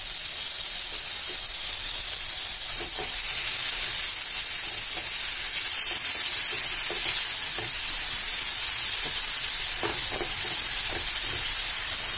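Onions frying with ginger, garlic, onion and green chili paste in a pan, a loud continuous hiss and sizzle with faint stirring ticks throughout, close up and without talk.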